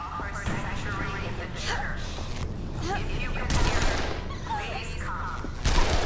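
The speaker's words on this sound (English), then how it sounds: "They're shooting from down there." Enemy gunfire in the Dead Island zombie game: bursts of shots crackling over a steady background, with a louder volley near the middle and another sharp burst at the end.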